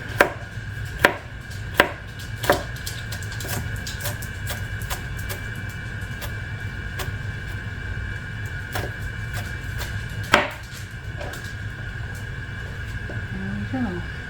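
A knife chops celery on a cutting board, a few sharp distinct knocks early and another later over a steady background hum.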